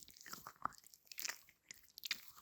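Soft squishing of a pink squishy axolotl fidget toy, close and quiet, a few short moist crunchy squeezes spaced through a brief stretch with no talk.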